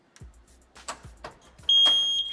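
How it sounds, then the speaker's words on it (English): Shrill, steady electronic beeping from a Nest smoke detector alarm cuts in loud and close after several soft knocks and handling thumps. "This alarm can't be hushed."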